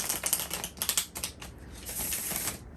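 Crisp, rapid card-on-card riffling and flicking sounds from a Gustave Doré Tarot deck being shuffled by hand, close and alone, in quick bursts that blend into a steadier shuffle toward the end.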